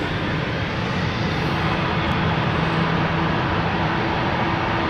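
Airplane departing from London City Airport, a broad, steady engine roar heard from a distance that holds at a constant level throughout.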